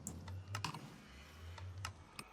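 Quiet clicking from a Minecraft redstone contraption in a single-player game world, a few sharp ticks spaced irregularly over a low steady hum, with no talking.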